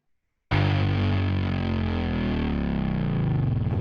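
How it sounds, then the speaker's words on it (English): A mix element driven hard into a distortion plugin bursts in after a short silence as a loud, dense, buzzing roar that holds steady for several seconds with a slowly bending low pitch. "all I did was just grind the heck out of the level going into the distortion, to get that bend"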